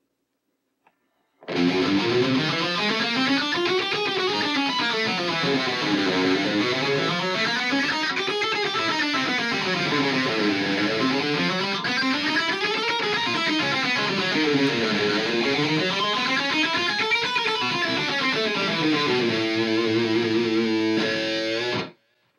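Fast, even alternate-picked distorted electric guitar runs up and down in repeating waves, ending with a few sustained notes.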